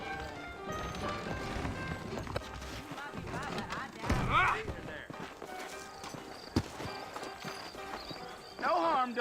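Horses in the Red Dead Redemption video game clip-clop at a steady run, hoofbeats close and mixed with a brief whinny, while voices talk over much of it.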